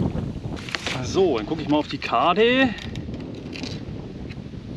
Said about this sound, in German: So, hier kommt einer mal doch mal ein bisschen der Wind entgegen.